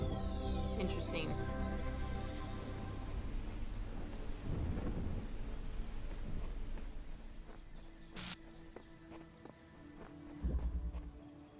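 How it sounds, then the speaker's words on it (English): Rain falls steadily with deep rolling thunder in The Talos Principle video game. The storm is loud and continuous, with a few sharper cracks partway through. "The rain seems to be lessening."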